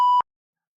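A single steady electronic censor bleep at one pitch, loud and clean, lasting about a fifth of a second and then cut off into silence.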